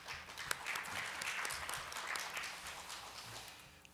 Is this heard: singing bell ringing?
no